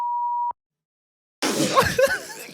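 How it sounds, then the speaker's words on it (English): A censor bleep on a talk show: a steady pure beep lasting half a second, then a short silence before voices and laughter resume. "That was beep."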